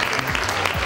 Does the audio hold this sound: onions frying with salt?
no